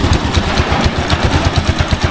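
A Rusi Chariot 175 motorcycle with a new piston and piston rings idles close by, its engine firing in a fast, steady, even pulse that holds for the whole moment with no talking.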